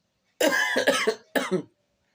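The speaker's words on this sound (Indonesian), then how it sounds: "rada-rada batuk." Three close, loud coughs from one person, two quick ones followed by a third after a short pause, then silence.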